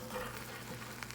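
An egg frying in a pan over medium heat gives a soft, steady sizzle with faint crackles. It is quiet and continuous for about a second, with no talking.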